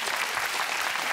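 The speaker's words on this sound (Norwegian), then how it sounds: "En liten applaus for dere." A brief burst of dense audience applause in a studio, steady and fairly loud throughout with no talk over it.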